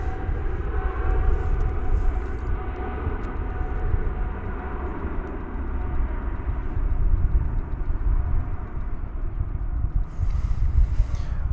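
An airplane taxis and turns into its cargo facility at DFW airport, a steady low engine rumble holding at an even level throughout with no talk.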